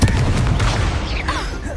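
A fiery blast from the Incendio spell in Hogwarts Legacy on PS5, a loud dense burst of crackling, booming combat noise with whooshing tails, close and continuous.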